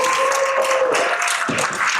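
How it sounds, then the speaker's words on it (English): A crowd at a Dallas real estate professionals' event claps steadily in a dense, loud wash of applause lasting the whole moment, with a faint tone under the start. "So give these people a round of applause"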